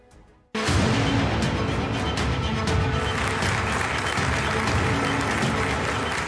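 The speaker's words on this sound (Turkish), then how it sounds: "Devlet Bahçeli uzun uzun alkışladı" Loud, sustained applause erupts suddenly in the Turkish parliament's general assembly as Devlet Bahçeli claps at length, a thick roar of many hands filling the hall after a brief quieter moment.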